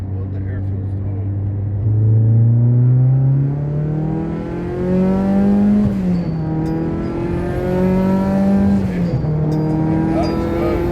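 A Mitsubishi Evo 8 accelerating hard up through the gears on an airfield, its engine note climbing steadily with each shift, loud and close from inside the car, with voices talking over it.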